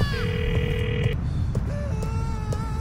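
A phone rings in Grand Theft Auto IV, a synthetic electronic ringtone with steady repeating tones heard loud over a constant game background.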